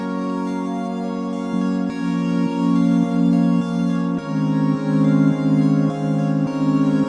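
Sustained synthesizer pad from a pop song session, steady and loud with smooth chord changes every second or so and faint soft percussive ticks, no voices.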